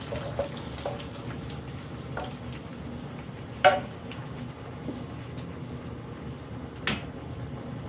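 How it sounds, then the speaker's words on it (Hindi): Spice masala for masoor dal sizzles softly as it fries in a pan, with occasional stirring scrapes and a couple of sharper clinks, steady and close with no talking. "अब इस मसाले को अच्छी तरह फ्राई करते हैं।"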